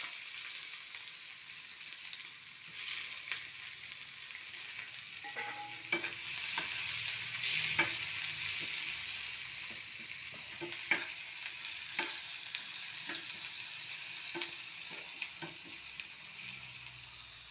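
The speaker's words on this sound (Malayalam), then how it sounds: "കുറച്ച് കറിവേപ്പില ഇട്ട് ഇനി നമുക്ക് ഉള്ളി ഇട്ട് കൊടുക്കാം നമുക്ക് ഇഞ്ചി പച്ചമുളകും കൂടി ഇട്ട് കൊടുക്കാം" Onions, ginger and green chillies fry with curry leaves in a pan for a Malayalam-style thoran, giving a steady close sizzle over 17 seconds with repeated clicks and scrapes of stirring and no talk.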